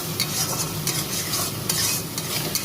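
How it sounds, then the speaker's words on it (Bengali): A spice paste with ground cumin being stir-fried in oil for a Bengali fish curry, a dense continuous sizzle with repeated scraping stirs, close and fairly loud, no talking. "দেওয়ার পরে ভালো করে মশলাটা কষিয়ে নিতে হবে।"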